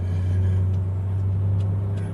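Toyota FT86 2.0L TRD sports car with automatic transmission, fitted with wide tyres on 19-inch wheels, cruising on a road, with a steady low engine and road rumble that stays loud and even inside the cabin.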